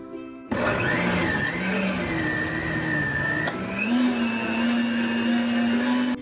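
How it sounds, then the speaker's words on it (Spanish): A blender grinding corn whirs loudly and steadily after a sudden start, its motor pitch wavering slightly as it grinds. "Aquí voy a terminar de licuar el otro maíz que me quedó"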